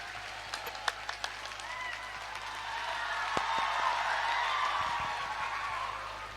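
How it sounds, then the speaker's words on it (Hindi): An audience at a youth meet in a hall welcomes a speaker to the stage with steady applause that swells in the middle and tapers off, a dense wash of many hands clapping with no talk over it. "उनके लिए जोरदार ताली से स्वागत कीजिए।"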